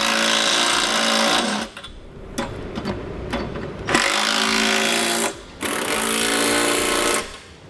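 Trailer hitch bolts on a Draw-Tite Max-Frame receiver being snugged down with a 19 mm socket, loud rapid mechanical whirring in long bursts broken by short pauses, close up with no talking.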